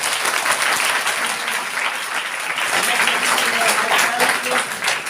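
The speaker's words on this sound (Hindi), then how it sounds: "छतरपुर ऑल एंटायर ग्रुप के लिए जोरदार तालियां होना चाहिए।" Loud, dense audience applause from a crowd at a group gathering, sustained clapping throughout with voices mixed in beneath it.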